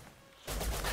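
A gunshot in a video game erupts suddenly after a quiet moment, a loud broad blast that lingers briefly with rumbling echo.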